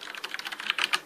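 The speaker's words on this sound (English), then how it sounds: "it's not the loudest mechanical keyboard I've heard" Fast typing on a Ducky Shine mechanical keyboard with Cherry MX Brown switches makes a quick run of close, crisp key clacks that speed up and get a bit louder toward the end.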